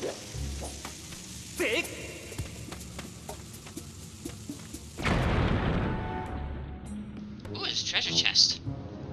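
A bomb in the video game Zelda: Skyward Sword blown against a cracked wall, with a fizzing fuse followed by a loud, rumbling blast that trails off into debris, while a voice speaks briefly beforehand.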